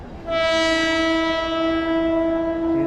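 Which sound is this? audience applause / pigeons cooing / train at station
train at station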